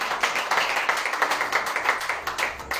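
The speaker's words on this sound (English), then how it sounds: "Clap your hands for Jesus Christ." A church congregation claps hands in a steady, rhythmic beat at an evening service, the sharp, fairly loud claps repeating evenly throughout without speech over them.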